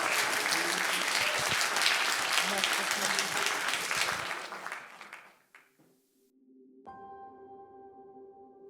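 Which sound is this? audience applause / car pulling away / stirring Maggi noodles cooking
audience applause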